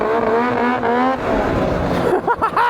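A two-stroke-swapped Kawasaki Bayou ATV revs hard under a quick throttle hit around 47 mph, a loud buzzing rising whine that climbs in pitch, then breaks into choppy bursts near the end.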